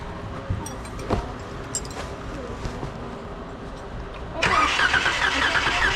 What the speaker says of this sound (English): See, it's turning over, guys.